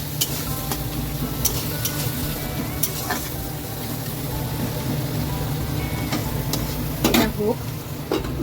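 Onion paste with tomato frying in a pan as it is stirred, a steady sizzle under repeated scraping strokes of a utensil and a few sharper clinks against the pan near the end.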